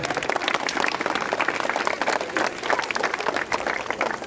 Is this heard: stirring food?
no